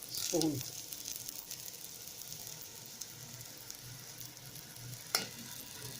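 Grated sweet potato and a tablespoon of semolina roast in a pan for kheer, giving a steady soft sizzle with a scrape of stirring at the start and another brief clink near the end.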